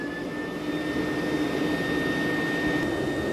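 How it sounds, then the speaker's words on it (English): A laser rust cleaning machine's exhaust system runs with a steady, even whooshing roar and faint high tones, like a strong extraction fan, holding constant from start to finish with no speech. "So I need to start the exhaust system"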